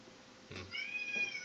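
A cat meows once, a short close call with a rising, drawn-out tone, heard against a quiet room with faint background noise and no talking.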